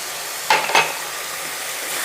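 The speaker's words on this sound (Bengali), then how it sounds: "নাড়ানাড়ি করে নিয়ে একটু নাড়াচাড়া করে দিই" Chicken curry with turmeric and ginger paste being stirred in a pan, two short scraping stir strokes over a soft steady sizzle, close and fairly quiet, with no talking.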